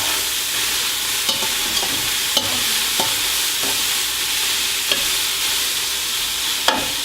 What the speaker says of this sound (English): So you're going to let that go till it browns